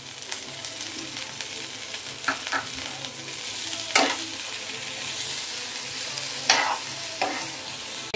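Stuffed eggplant curry with coriander sizzles loudly in a pan while being stirred, with several sharp scrapes and knocks of the spoon over the continuous frying hiss.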